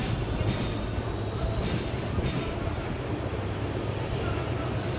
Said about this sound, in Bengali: অপর পাশে ঢাকাগামী একটা ট্রেন যাচ্ছে,